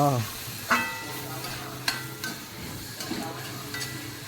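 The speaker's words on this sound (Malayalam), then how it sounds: "വെളുത്തുള്ളി ഇനി വഴറ്റിക്കൊണ്ടേയിരിക്കുക കുറച്ച് നേരം വഴറ്റുക" Garlic sautéing in a pan for a homestyle beef curry, a steady close sizzle with occasional stirring scrapes and clinks, no talk.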